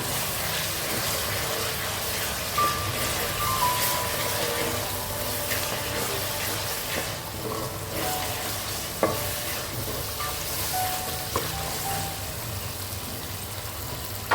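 Ginger garlic paste fries in oil for a Chirala-style fish curry, a steady close sizzle running throughout with occasional clinks and scrapes of a stirring spoon and no talk.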